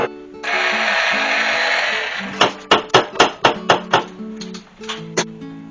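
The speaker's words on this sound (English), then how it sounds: "I'm going to give it one last spin with the blender." A blender whirs loudly through tomato sauce for about two seconds, then a series of rapid rhythmic thumps follow, like the jar being knocked or pulsed.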